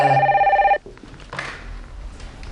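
A telephone rings with a loud, warbling electronic trill that cuts off abruptly after under a second, leaving faint room noise and light rustling.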